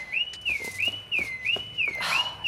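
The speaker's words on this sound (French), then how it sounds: "Cette satanée alarme." Repeating electronic alarm tone, a warbling rising-and-falling beep cycling about every half second, close and clear, with a brief louder burst near the end.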